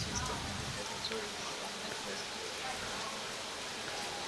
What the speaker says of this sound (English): The rains are a little bit more heavy